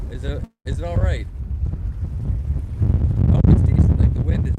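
Gusty wind buffets the microphone on a boat while pike fishing in rain, a loud low rumble that rises and swells toward the end, with a voice talking over it early on.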